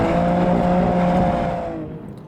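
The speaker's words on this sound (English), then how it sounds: "M-car growl." A 2021 BMW M4 Competition engine howls near the top of its rev range, a loud, sustained harmonic growl holding steady before easing slightly as it fades toward the end.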